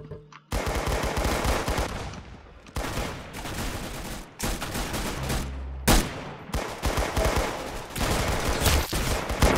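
Video game gunfire in Arsenal: rapid bursts of automatic shots fired close and loud, running nearly continuously with a few short pauses between volleys.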